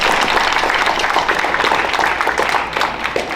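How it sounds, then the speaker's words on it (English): Audience at a high school jazz band and percussion ensemble spring concert giving a round of applause, dense and loud clapping sustained for the whole stretch. "Give a round of applause for everyone here tonight"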